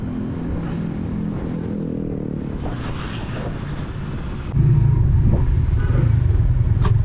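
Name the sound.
Honda CB150X motorcycle test ride on a damaged road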